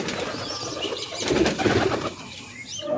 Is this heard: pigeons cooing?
yes